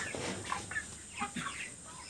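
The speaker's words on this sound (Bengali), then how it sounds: "এই যে মুরগিগুলা পরিষ্কার আছে, দেখেন মুরগির শরীরেও খুব একটা ময়লা নাই" Poultry chickens on a farm, a soft, fairly distant mix of overlapping clucks and short calls with no voices over them.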